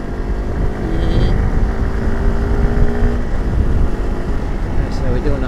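A 2023 Honda CRF300L Rally motorcycle accelerates hard at road speed, its single-cylinder engine rising in pitch under heavy wind roar, with a rider talking over it.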